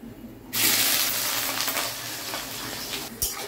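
Onion sizzles in hot oil in a pan, with spices including cardamom, cloves, cinnamon and bay leaf: a sudden loud hiss bursts in and holds steady, with a faint clink near the end.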